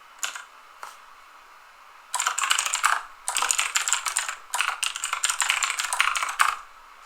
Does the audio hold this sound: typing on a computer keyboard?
yes